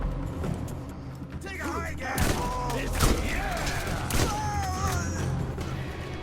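Shotgun blasts in the video game Borderlands: a few heavy booming shots punch through busy game noise, with voices talking over the action.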